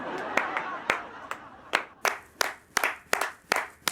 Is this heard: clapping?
yes